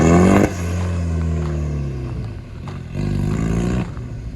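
A home-built supercar pulls away under its own power, its engine producing a loud, deep rumble with harmonic tones that rise and ease through about four seconds, close by, with no talking.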